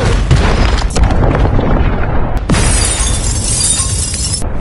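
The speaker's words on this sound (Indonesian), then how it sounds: "tiba-tiba terjadi sebuah ledakan" An explosion in an Indian action film as soldiers approach a meeting building, a loud boom with shattering glass and debris, followed by a second sharp burst and a sustained rumbling crash.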